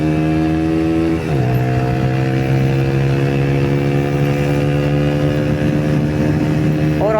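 A modified Yamaha YBR motorcycle engine pulls hard at near top speed on a road, a loud steady drone that shifts pitch once as it changes gear, with constant wind rush and no voices.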